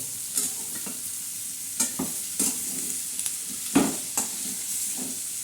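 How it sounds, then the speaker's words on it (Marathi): Capsicum (shimla mirch) is stir-fried with a little salt in a pan, a steady sizzle broken by several sharp scrapes and knocks of the spatula, with no talking. "तर याच्यावर थोडंसं मीठ टाकायचं तर हे कसं असं चांगलं परतून घ्यायचं असं"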